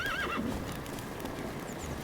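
Roach, the horse in The Witcher 3 video game, gives a clear neigh near the start over a steady game soundscape, followed by faint hoof sounds.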